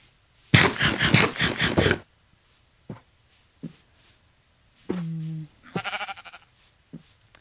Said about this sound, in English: Yes, sheep.